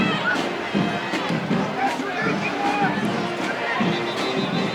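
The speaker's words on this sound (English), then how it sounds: "You could hear this Mountain Crest crowd looking for like a late block, late hit." High school football crowd at a Mountain Crest home game against Logan, a steady roar of yelling and mixed voices that stays loud and dense throughout.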